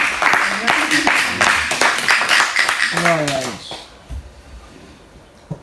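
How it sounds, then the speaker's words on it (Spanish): Church congregation applauding during a worship service, a dense burst of clapping mixed with cheering voices that fades out after a few seconds, leaving quiet room tone. "dale un aplauso al Señor"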